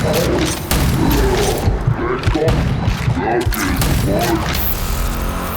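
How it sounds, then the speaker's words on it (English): Gunfire and thudding impacts while strafing enemies in the shooter Rage 2, a busy stretch of loud shots and mechanical clanks, with a voice talking faintly underneath. "Just strafing the beast and shooting them down."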